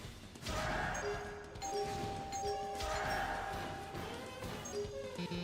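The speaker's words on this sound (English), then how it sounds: "So it's just like constant doorbell ringing sound effects." Repeated doorbell ding-dong chimes as a sound effect in the Wii video game Sonic Unleashed, bright tones sounding again and again over game noise and thuds.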